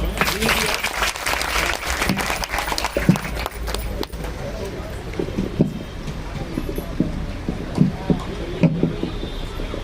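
Crowd applause at a Bahujan Samaj Party rally at an election office, a loud burst of clapping at first that thins into scattered claps beneath a speaker's voice and crowd noise.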